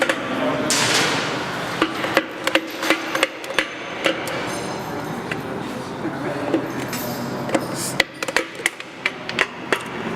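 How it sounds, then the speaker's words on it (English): A hammer taps a piston into an engine cylinder, light irregular knocks on metal in clusters, close by, with someone talking over a steady mechanical background. "I like to use the hammer to tap it in as smoothly as I can"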